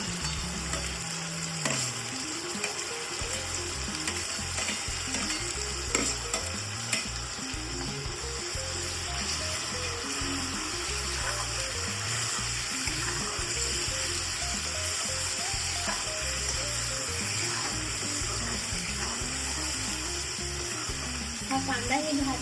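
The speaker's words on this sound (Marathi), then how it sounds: "आपल्या अद्रक लसूण पेस्टला सोनेरी असा रंग आलेला आहे. आता यात आपण घालणार आहोत कांद्याची पेस्ट." Onion paste fries in a pan after ginger-garlic paste for chicken biryani, a continuous dense sizzle with stirring and scraping sounds, close and loud with no talk.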